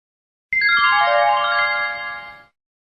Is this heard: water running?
no